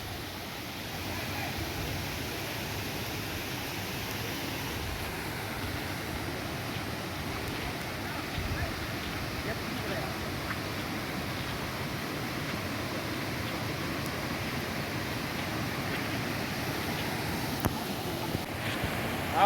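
Tat waterfall pours in a steady, even rush of broadband water noise that fills the whole stretch without a break, moderately loud and unchanging throughout.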